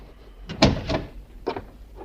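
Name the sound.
door closing, radio drama sound effect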